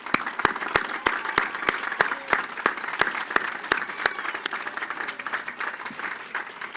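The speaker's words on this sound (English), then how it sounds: "Let's give a round of applause to the crew." Sustained applause from an audience at a commissioning ceremony for the nuclear-powered Virginia-class attack submarine USS John Warner, steady dense clapping with a few sharp individual claps standing out, continuing evenly throughout.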